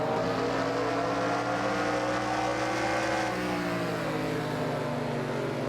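Race cars in NASCAR Racing 2003 pull away at the green flag, a loud, continuous engine roar with pitch rising and shifting as the pack accelerates.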